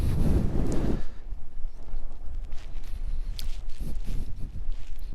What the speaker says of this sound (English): it's too windy to even put my hat on